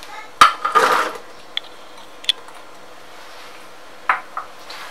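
A blade and a chopped onion go into a Compact Cook multicooker bowl, heard as a sharp plastic-metal clack, a short rattle of pieces dropping in, then a few scattered light knocks and clicks nearby in a quiet kitchen.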